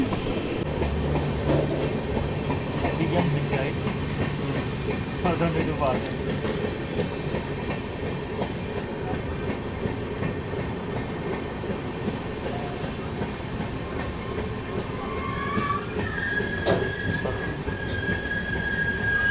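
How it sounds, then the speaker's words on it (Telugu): An Indian Railways Tamil Nadu SF Express, Chennai Central to New Delhi, braking toward an unscheduled halt at Gudur, with steady loud rumble, rhythmic wheel clatter and rising metallic wheel squeal near the end. "మన బండి అయితే ఇప్పుడు గూడూరులో స్టాప్ లేకపోయినా ఆగిందనమాట"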